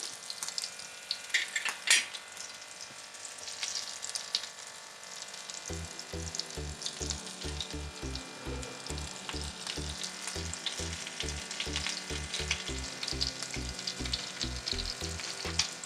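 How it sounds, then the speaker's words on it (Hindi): Vegetable kebabs frying on a tawa, a continuous close sizzle and crackle, joined partway through by a steady rhythmic low thumping that repeats to the end. "मैं इधर एक और कबाब फ्राई कर लेती हूँ"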